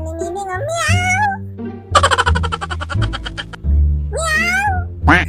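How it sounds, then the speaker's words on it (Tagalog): A house cat meows several times in drawn-out, rising calls, close and loud, while a person talks and coos over it and more sounds follow between the meows. "Ang amo ni Nining, oh, meow!"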